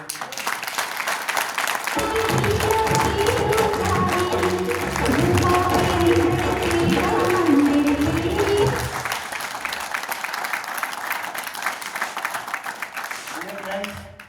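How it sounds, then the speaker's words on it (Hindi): An audience claps at a gathering, a dense round of applause building after a couple of seconds alongside a loud tonal layer, then thinning into lighter scattered clapping that carries on to the end. "क्या आप अपने इष्ट देव के लिए इतनी सी तालियां बजाएंगे?"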